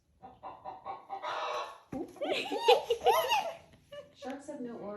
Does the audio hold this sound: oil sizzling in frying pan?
no